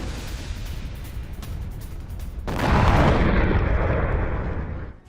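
A deep, rumbling explosion at a shopping mall in Samara, Russia, swells over steady background noise and holds loud for a couple of seconds before fading out.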